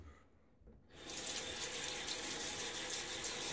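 Distilled water pouring onto a previously rinsed shaving brush, a steady broadband splashing stream that starts abruptly after a second of near silence and runs on loud and close.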